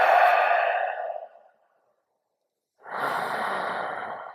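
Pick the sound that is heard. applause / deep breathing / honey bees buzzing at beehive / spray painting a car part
deep breathing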